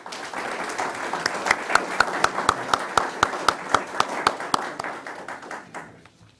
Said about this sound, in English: Let's have one more round of applause for our six National Board Certified Teachers.